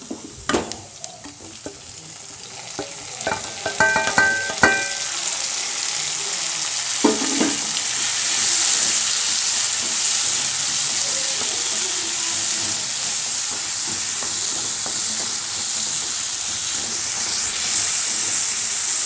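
Elephant foot yam and tomato sautéed in a pan, opening with sharp clatters and stirring knocks, then settling into a loud, steady frying hiss that runs on alone.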